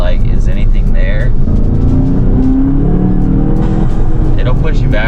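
A Volkswagen GTI with an Integrated Engineering intake and Stage 1 tune drones loudly from inside the cabin, a steady engine note with turbo whoosh and brief chirps, while someone talks throughout.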